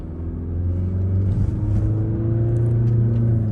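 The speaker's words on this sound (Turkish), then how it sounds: "Evet devir göstergemiz 3000 devre yaklaşınca vitesimizi de değiştiriyoruz." A car engine revs steadily upward toward about 3000 rpm during a driving lesson ahead of the driving test, a loud, continuous rising drone that holds close and steady before the gear change.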